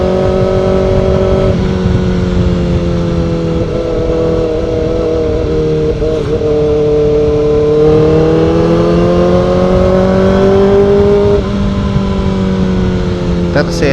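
Kawasaki ZX4RR motorcycle pulling hard in third gear on a road, its engine note rising and falling steadily and loud throughout, with a rider's voice talking over it.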